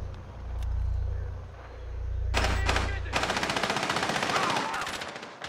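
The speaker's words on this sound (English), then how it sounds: "Zoph is sniping from right outside of the parking lot" Sniper fire in Rainbow Six Siege on the Bank map: a few isolated shots, then a long run of rapid, evenly spaced cracks, fairly loud and close, with no talking over it.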